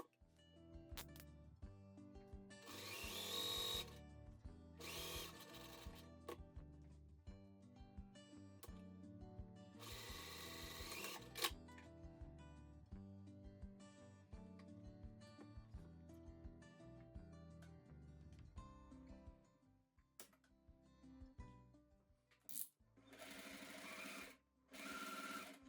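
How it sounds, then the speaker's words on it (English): A sewing machine stitching around a pocket on linen pants, a steady close rattle of needle strokes in long runs broken by short pauses, quiet overall with occasional fabric rustle. "now I'm going to stitch at about 1/2 inch seam allowance all the way around this pocket"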